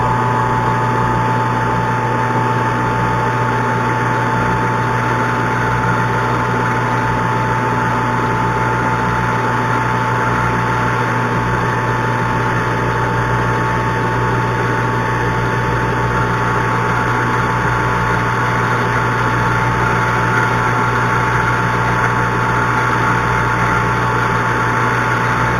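A Mini Hog engine runs steadily at about 1,000 RPM, a loud, constant drone with a fixed hum that holds unchanged throughout with no talk over it.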